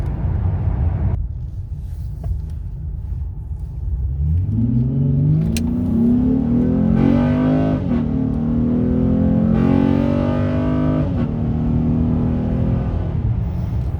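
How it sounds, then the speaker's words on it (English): A Honda Ridgeline engine with a cold air intake revs up under acceleration, its roar climbing in pitch and hardening into a sharper intake growl as VTEC engages, loud and close, then easing off. "You can hear that VTEC kicking in through the air intake."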